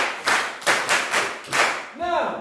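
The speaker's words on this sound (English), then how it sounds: "Clap for yourselves." Classroom students clapping for themselves during a maths lesson, a handful of loose, uneven claps in distinct bursts close by, ending with a brief voice.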